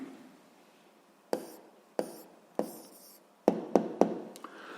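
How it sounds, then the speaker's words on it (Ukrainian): A pen writes an answer on paper in short scratchy strokes and taps, several distinct bursts in quick succession, close and fairly quiet, with no talking. "Ну що ж, записуємо відповідь."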